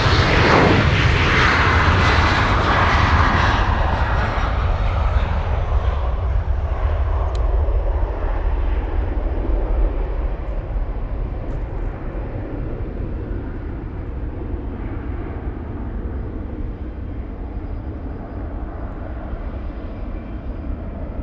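An Air Dolomiti airliner taking off at Munich airport roars loud and broad, then the engine noise slowly fades as it climbs away.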